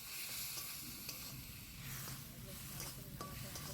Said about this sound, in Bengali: হলুদ গুঁড়ো দিয়ে ভালো করে নাড়াচাড়া করে কষিয়ে নিচ্ছি।